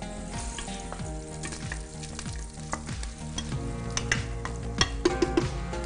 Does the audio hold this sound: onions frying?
yes